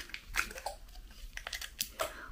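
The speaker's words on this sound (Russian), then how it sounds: "Ногтем у меня не получается ее проткнуть, поэтому я попробую ножницами." Scissors puncture a dense foil membrane sealing a chlorella gelatin capsule blister, giving several short crinkling, crunching snaps spread irregularly over a couple of seconds, fairly quiet and close, with no talking.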